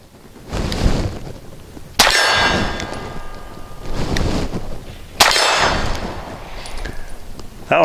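Walther CCP .380 pistol fired at a steel target: two sharp shots about three seconds apart, each followed by a bright ringing clang from the struck steel, heard outdoors with no talk.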